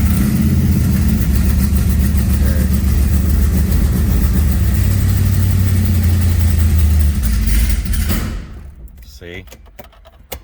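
Race car engine idling on a lift in a shop, a loud, steady low rumble that runs for about eight seconds before dropping off abruptly, followed by faint clicks and near silence.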